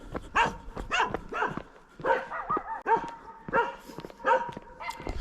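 A dog barks repeatedly nearby, loud sharp barks in irregular bursts of one to three with brief pauses, continuing throughout.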